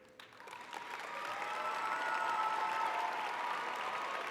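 A graduation audience at a high school ceremony applauds the senior cabinet, the clapping starting thin, then swelling into dense, sustained applause from a large crowd in a hall.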